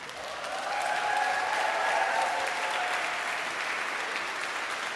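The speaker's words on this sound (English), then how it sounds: "Stand up and give Miriam an applause if you can." A church convocation audience rises and applauds for Miriam, a steady, full wash of clapping from a large crowd that swells and holds for several seconds at moderate distance.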